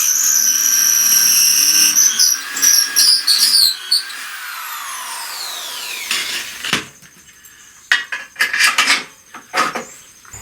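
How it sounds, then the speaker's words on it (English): A power drill bores holes through spacers, whining loudly with a falling pitch as it slows, then gives way to several short bursts and handling knocks. "put a bolt in one hole while I drill this hole all the way through"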